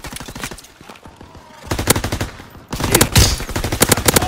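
Rapid automatic gunfire from Call of Duty WWII, loud bursts of machine-gun fire crackling in dense strings, with a brief lull before heavier, closer volleys resume.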